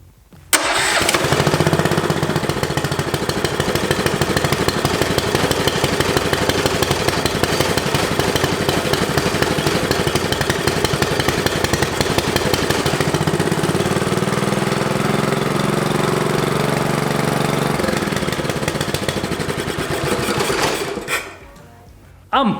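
A homemade Formula One style car's engine cranks and catches, then runs continuously at a loud, buzzing, steady idle for about twenty seconds before cutting off abruptly, close to the listener.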